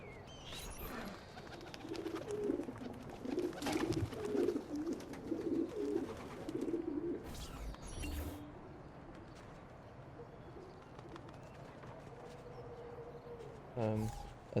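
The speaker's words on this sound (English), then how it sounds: "Ah, this is the pigeon coop." Pigeons in a coop in the video game Assassin's Creed 2 give soft, repeated throaty coos in rhythmic bursts, close by, with a few clicks and thumps scattered through.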